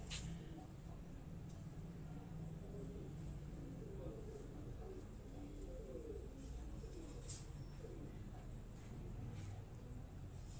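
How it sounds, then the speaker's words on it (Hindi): Pigeons coo softly in a loft, producing a low rolling murmur that continues throughout under a steady background hum, with a voice faintly present. "ये राजा अजीम साहब के कबूतर"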